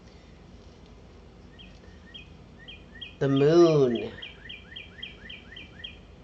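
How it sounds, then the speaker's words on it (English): Birds chirp outside an open door in a natural setting, a steady run of short, high tweets a little distant. A person talks briefly over them partway through. "there are birds chirping"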